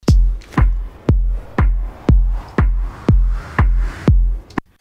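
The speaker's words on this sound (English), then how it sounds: "With a short release time, you can create a pumping effect" Drum loop with kick drum hits heavily compressed using a short release time, giving a strong pumping effect: about nine evenly spaced, loud kicks, the level swelling back up quickly after each hit, no talking.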